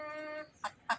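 Spotted hens in a backyard coop: a faint, drawn-out tonal call fades out, then two short clucks follow quickly and close by, with no voices.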